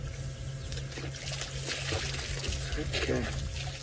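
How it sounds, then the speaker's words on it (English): Young elephants splash in water at a distance while on safari, giving a soft, continuous trickling and sloshing under a low background rumble and faint murmured voices. "you can hear the elephant splashing, those youngsters busy splashing around"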